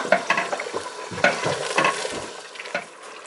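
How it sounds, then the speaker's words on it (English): Onion and ginger frying in a pan for a Ghanaian beef stew, sizzling steadily while a utensil stirs and scrapes through it in uneven bursts, close and moderately loud with no talking. "this is how you want the onion and ginger to fry to sort of that consistency"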